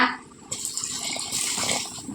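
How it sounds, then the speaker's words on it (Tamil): About half a cup of water poured into a pan of crab curry, a close, steady gushing splash that starts abruptly and keeps running, with no speech. "நான் அரை கப்பு தண்ணி சேர்த்துக்கிறேன்"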